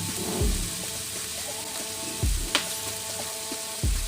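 Ground pork sizzling steadily in a pan with chayote and tomato as it is stir-fried, a constant close hiss broken by a few low thumps and scrapes of the spatula, no talking.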